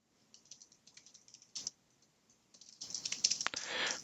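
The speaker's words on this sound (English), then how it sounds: "If I could type" Typing on a computer keyboard: quick bursts of close key clicks, a short sparse run, a pause, then a faster, denser flurry.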